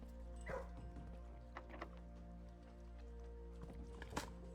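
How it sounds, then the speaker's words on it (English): Dog barking inside the video game Blue Prince, a few sharp yaps spread across a steady low hum of background game ambience, fairly quiet and distant. "Dogs bark."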